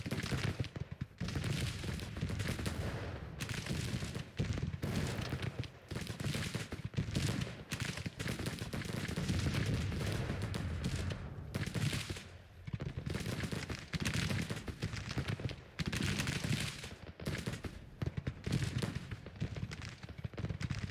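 Cannon and gunfire from a Civil War battle in the strategy game Grand Tactician, loud rolling volleys and booms with dense overlapping blasts running continuously throughout.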